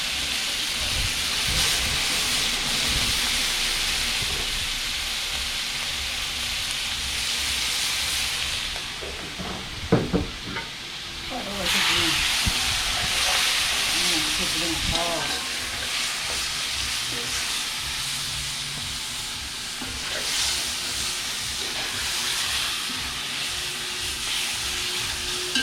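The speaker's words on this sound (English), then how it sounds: "Fry it in the curry." Wild hog pieces fry in curry with a continuous dense sizzle and steam hiss, broken midway by a few clatters and stirring knocks of a utensil in the pot.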